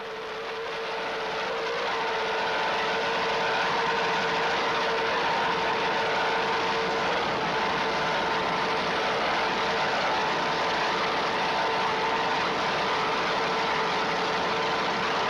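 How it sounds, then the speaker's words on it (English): Fever's offshore racing powerboat at the 1994 Key West Worlds, twin marine engines roaring in a loud, steady, sustained drone with a strong tonal hum, continuous throughout with no talk. "Let's listen to those Fever marine engines."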